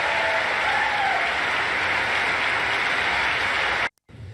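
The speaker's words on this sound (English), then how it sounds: "And there's Marjorie Taylor Greene clapping." Clapping from lawmakers in the U.S. House chamber after a bill announcement, a dense steady wash of applause lasting about four seconds before cutting off abruptly.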